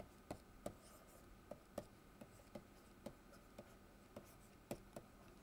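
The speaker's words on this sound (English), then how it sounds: "let me write this down technically correctly" Pen or chalk writing out notes during a fluid dynamics lecture, faint sharp ticks and taps at a loose, steady rhythm in a quiet room, with no talking over them.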